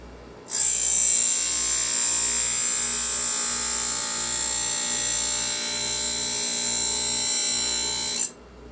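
A CBN grinding wheel sharpens a chainsaw chain tooth on a square-grind jig, a loud, continuous high-pitched whine with a fast pulsing buzz that starts abruptly, holds steady for about eight seconds, then cuts off.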